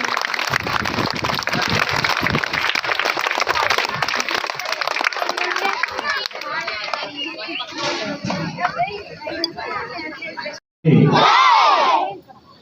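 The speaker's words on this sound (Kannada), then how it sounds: "ಈಗ ಎಲ್ಲರೂ ಚಪ್ಪಾಳೆ ಹೊಡೆದ್ರ ಮೂಲಕ ಅವರಿಗೆ ಸನ್ಮಾನ ಮಾಡೋಣ" An audience at a school cluster-level talent festival claps and cheers in a loud, sustained burst for several seconds, then the noise fades and a short loud shout or cheer rises near the end.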